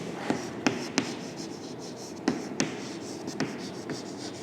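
Chalk or a marker writes on a board in a maths class, giving faint scratching strokes broken by sharp taps as words are put down. It is heard close up, with no speech over it.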